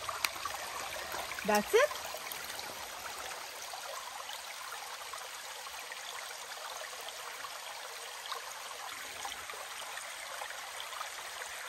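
A spring trickles steadily along a mountain trail on a hot day, a soft continuous flow of water heard up close, with a brief spoken remark near the start.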